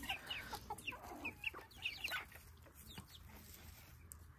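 Juvenile chickens cluck and chirp near an open cage, a quick run of soft calls in the first two seconds that then fades into quiet background rustle.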